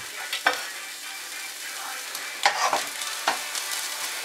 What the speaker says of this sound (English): when your oil is hot, add your onions